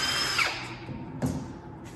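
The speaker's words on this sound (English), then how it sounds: "So I put the drill bit in." Power drill boring pocket holes into wood through a Kreg jig, bit spinning at full speed; a steady whirring drone with two brief surges as the bit bites and clears, loud and close with no talking.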